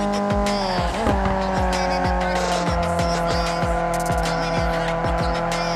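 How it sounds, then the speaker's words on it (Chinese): A car drifts through a corner in the mobile racing game Need for Speed Unite, with loud, sustained tire squeal over a revving engine and repeated rhythmic gear-shift thumps. "在适当的区域漂移，"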